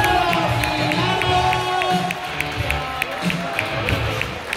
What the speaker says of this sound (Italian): Applausi, Milano!